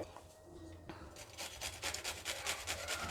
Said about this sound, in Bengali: বন্ধুরা এর মধ্যে আমি একটা লঙ্কা ঘষে দেব পাতলা পাতলা করে